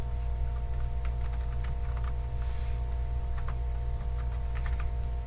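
Login credentials being typed on a computer keyboard, a steady run of light key clicks over a constant electrical hum in a quiet room.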